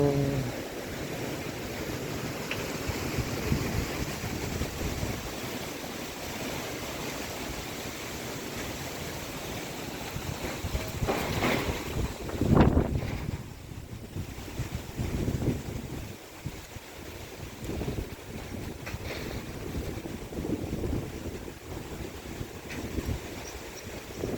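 Strong gusty wind roars through trees around a rural farmstead with a corrugated-metal cattle pen, a continuous broadband rush with a louder surge midway, buffeting the microphone, no voices.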